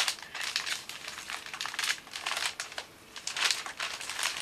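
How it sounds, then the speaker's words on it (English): Clear cellophane folded around a single long-stem rose, close crisp crinkling and rustling in irregular bursts with a brief lull midway, no talking. "So first of all I'm just going to fold over the cellophane"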